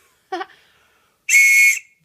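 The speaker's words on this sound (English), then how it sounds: "Our emergency whistle." A short chirp, then a single shrill blast from an emergency whistle lasting about half a second, loud and close against silence.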